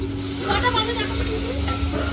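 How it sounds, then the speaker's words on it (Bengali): Ghugni, a spiced pea curry, stirred and frying in a pan: a steady close sizzle with scraping stir sounds over a constant background hum. "এখন ঘুগনি রান্না করছি।"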